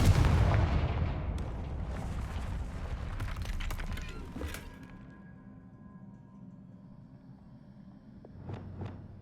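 Confringo fire spell blast in the Hogwarts Legacy video game, a loud booming burst with crackling debris over the first few seconds, fading into a low rumble, then a couple of sharp magical chimes near the end.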